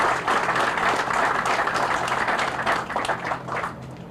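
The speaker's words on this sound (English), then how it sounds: "Let us give them a quick round of applause and thank them for their work." Crowd at an outdoor ribbon cutting for a new electrical substation on Grand Isle gives a brief round of applause, dense and even clapping throughout that thins toward the end.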